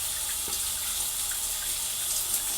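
Leaking water pours and rushes down under a tile floor in a steady, hissing stream that stays even throughout, fairly close, with no voices.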